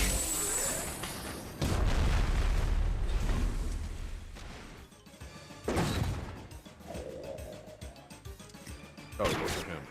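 Airstrike explosions from the turn-based game Metal Slug Tactics: several loud, booming blasts strike in sequence, each a sharp crash decaying into rumble, with lighter impacts and game effects between them.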